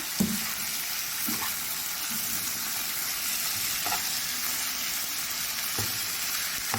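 Washed, cut chicken pieces fry in a pan while being stirred, a loud continuous sizzle with periodic dull knocks and scrapes of a spoon, no voices.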